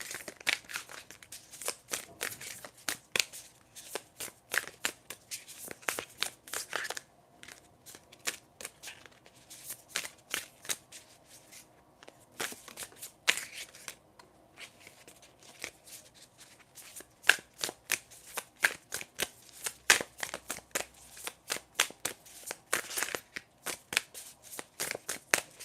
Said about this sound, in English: Let me shuffle to see anything else that I can get for you.